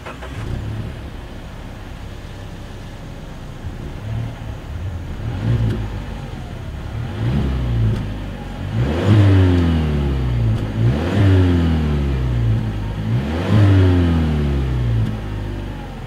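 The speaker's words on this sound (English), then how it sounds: "As always, here is that exhaust clip." A 2020 Mazda 6 revs through its dual exhaust with chrome tips, several rising throttle blips swelling from a steady idle, the last three loudest and closely spaced, heard from behind the car with no talk.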